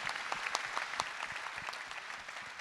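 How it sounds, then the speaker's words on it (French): Applause for a local farmer after a round-table talk on a community agglomeration, a steady even patter of clapping from a modest audience that holds throughout at moderate level. "On peut vous applaudir et vraiment vous encourager"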